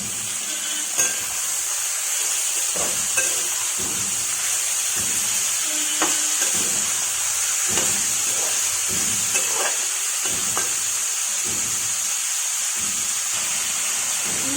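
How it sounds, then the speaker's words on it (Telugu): Snake gourd pieces fry with onions in a hot pan, a steady bright sizzle running throughout as a utensil stirs them, with intermittent soft scraping and clinks over the continuous hiss and no voices. "పొట్లకాయ ముక్కలు వేసి బాగా కలుపుకోవాలి."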